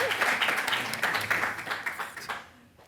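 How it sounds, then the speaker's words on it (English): Audience applause for a literary agent at a book event, a brief burst of clapping that is fairly steady at first, then thins and fades to near quiet by the end. "applause."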